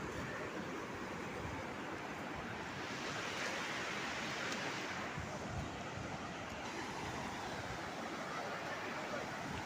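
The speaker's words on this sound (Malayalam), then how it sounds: "കടലിങ്ങനെ കയറി വരുന്നു. ആ അങ്ങനെ കയറി വരും. അതിനെ വേലിയേറ്റം എന്ന് പറയും." Sea waves roll in at high tide on Muzhappilangad beach in the rain, a loud, continuous roaring wash of surf with wind, steady from start to finish.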